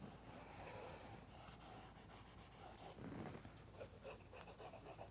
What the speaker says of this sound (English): I just enjoy the sound of my pencil on the paper.